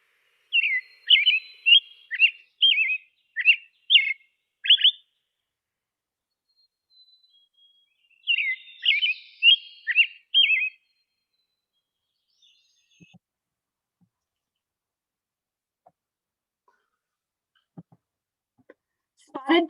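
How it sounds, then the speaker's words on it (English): An American robin sings two bursts of fluty, whistled phrases, each a string of short rising and falling notes, clear and fairly close against silence. The bursts are separated by a pause, followed by a long quiet stretch with a few faint ticks. "the cheer up, cheerly, cheerio of the American robin is fluty and always a welcome note of spring"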